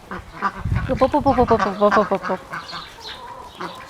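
Ducks quack loudly and close by in a rapid burst during a food chase, then quieter calls and rustling follow.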